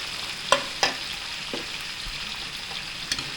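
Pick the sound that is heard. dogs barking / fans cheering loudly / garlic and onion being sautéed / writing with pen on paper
garlic and onion being sautéed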